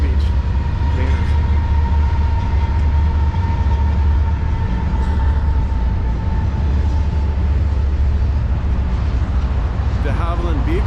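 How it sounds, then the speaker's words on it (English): A long freight train pulled by five locomotives, carrying containers from Long Beach, rumbles steadily past near the former Castle Air Force Base. The loud, constant rolling roar lasts throughout while someone talks over it. "a train going by that's so big it's got 5 engines"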